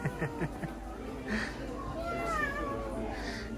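A person mimics a cat's meow in a drawn-out, wavering voice, following brief talk and light laughter nearby.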